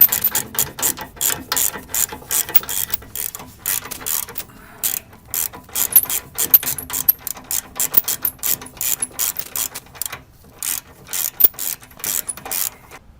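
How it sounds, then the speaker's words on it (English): A hand ratchet with a 15mm shallow socket loosens thread-locked bolts while fitting a rear bumper step on a Ram Promaster van, a rapid clicking heard in repeated close bursts with brief pauses. "15mm shallow socket will do nicely. So just pop these off."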